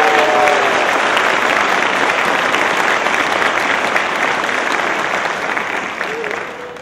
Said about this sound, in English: I'd like you to give a very special round of applause for Ms.